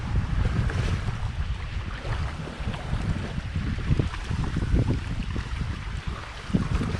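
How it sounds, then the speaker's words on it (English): Heavy wind buffets the microphone in a constant low roar, with gusty rumbling throughout and no voices, by Mongaup Pond in the Catskills. "You may not hear me too well, the wind's really bad here."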